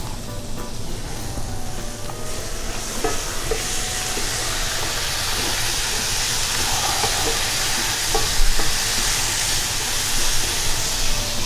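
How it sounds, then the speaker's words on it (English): A Medi blend gets a quick stir in a hot pan: a continuous close sizzle with occasional scraping and clatter from the utensil, slightly louder bursts near the end, and no talking. "And then I'm going to come back, get us a quick stir, then come right in with my broccoli."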